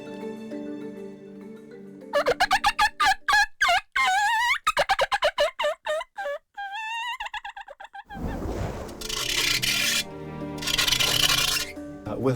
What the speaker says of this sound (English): this is a mouth call that's essentially made to lure predator creatures